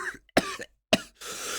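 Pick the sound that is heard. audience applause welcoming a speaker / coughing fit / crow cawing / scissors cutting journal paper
coughing fit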